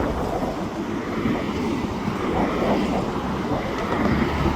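A CN freight train rolls past in a southbound side view in the afternoon, a steady broadband rumble and rattle of railcars held at an even level throughout, fairly close, with no talk.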